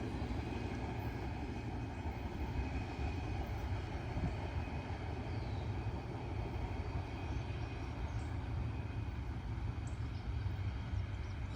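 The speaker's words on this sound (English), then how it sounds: "There you go, good train, mixed freight." A mixed freight train rolls past, a steady, loud, unbroken rumble of wagons that lasts the whole stretch with no voices.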